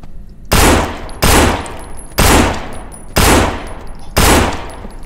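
Five loud bursts of rapid automatic gunfire in the zombie shooter No More Room in Hell, each about half a second long and separated by brief pauses.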